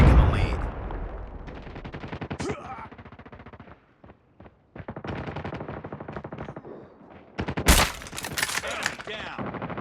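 Machine gun fire in a first-person shooter video game: loud, rapid bursts of automatic gunfire, some long and sustained and others short, with one sharp louder blast near the end and game voice callouts mixed in.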